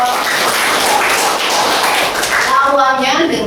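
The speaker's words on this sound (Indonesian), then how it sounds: "kita tepuk tangan dulu dong" Classroom clapping during a biology lesson, a loud continuous patter of many hands that fills the whole moment, with a voice breaking through near the end.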